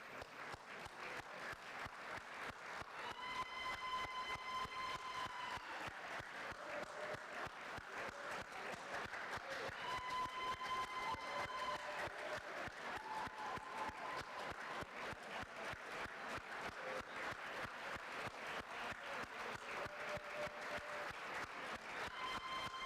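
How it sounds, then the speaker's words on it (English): A large forum audience applauds steadily and loudly throughout, dense clapping with a few higher tonal sounds layered over it. "so please can we give us applause?"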